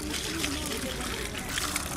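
A 3 kg Sundarbans fish is rinsed in water, giving a steady wash of trickling, splashing water with a sloshing texture close up, continuous for the whole stretch.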